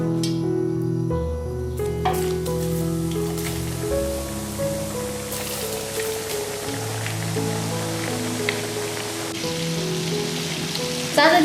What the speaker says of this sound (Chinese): 油热，下面我们下锅炸鸡米花。